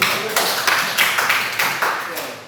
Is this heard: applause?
yes